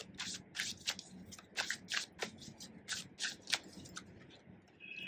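Tarot cards are shuffled and drawn by hand, with quick, crisp riffles and snapping flicks in irregular bursts, close and fairly quiet.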